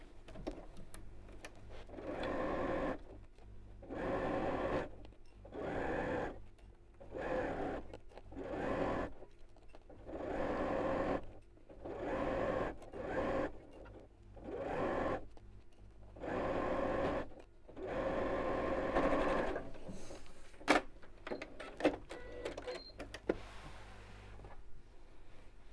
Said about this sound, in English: I'm going to sew from this side so I can see where my stitch line is already